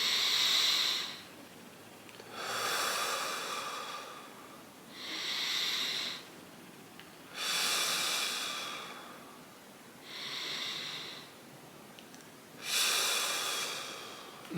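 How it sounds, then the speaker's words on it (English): Deep breathing exercise with slow, full inhalations drawn all the way in, heard as several long, airy breaths in a steady repeating rhythm, close and fairly quiet with short pauses between. "Then you could breathe all the way in."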